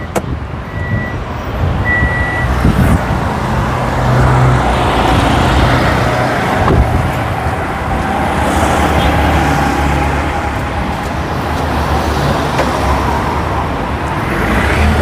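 A Toyota Fielder, a used car, runs steadily with a loud, continuous engine rumble and hum throughout, heard close up with no talking.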